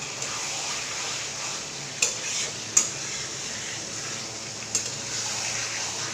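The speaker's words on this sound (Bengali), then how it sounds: "এরপর আমি এর মধ্যে একটু নাড়িয়ে চাড়িয়ে নেব এবং তারপরে দেখো বেশ সুন্দর কষানো হয়েছে।" Chicken curry cooking in oil being stirred in a pan, a soft steady sizzle with a few sharp clinks of a spoon against the pot.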